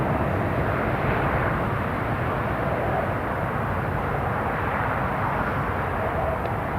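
A classic Convair CV990 jet airliner near Newcastle International Airport gives a continuous, even engine roar, steady and moderately loud throughout with no breaks.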